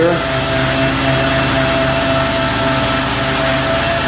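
An orbital sander works steadily on the body of a 2001 Mitsubishi Diamante during collision repair, running 180 then 320 grit on an interface pad, giving a loud, continuous motor whir with a constant tone and no pauses.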